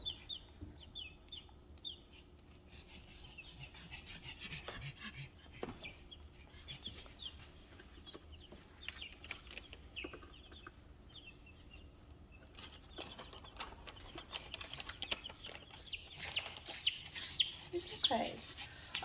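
Baby chicks pecking and peeping softly while eating a snack, with scattered light pecks and faint chirps that grow busier toward the end, under a person talking quietly.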